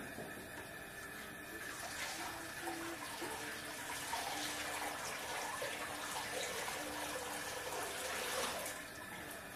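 Liquid is poured back into a mash tun during batch sparging for a pale ale, giving a steady splashing, rushing pour that is close and fairly even throughout.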